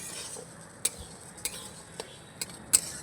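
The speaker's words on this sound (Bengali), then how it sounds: "এবার উনুনের আঁচটা হালকা রেখে চালটাকে ভালো করে ভাজা ভাজা করে নিতে হবে" Marinated rice being fried on low heat in a pan and stirred, giving faint, soft scraping with a few light clinks of a utensil against the pan, and no talk.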